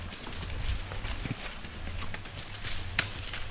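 A horse walks with steady clip-clop hoof steps while hauling a heavy load of lansones fruit, the hooves close and even over a low outdoor rumble.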